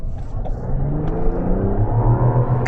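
Mazda CX-90 with a 3.3-litre turbocharged straight-six mild-hybrid engine accelerating, a smooth rising engine note building steadily, heard close and fairly loud with no talk.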